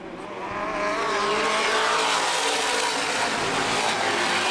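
NAPA late model race cars roar past at Baer Field Speedway, a loud, continuous engine and tire rush building quickly and holding steady under green-flag racing.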